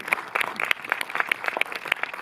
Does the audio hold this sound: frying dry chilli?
no